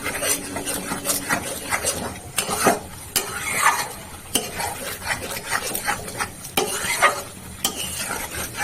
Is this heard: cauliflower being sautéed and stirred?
yes